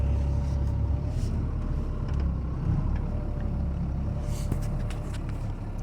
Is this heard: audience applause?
no